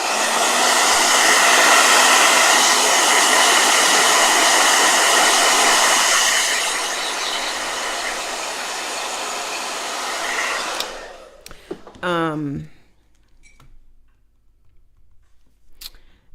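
A blow dryer roars loudly and steadily up close for about eleven seconds, drops slightly in pitch partway through, then cuts off, leaving quiet with a brief voice and faint room sounds.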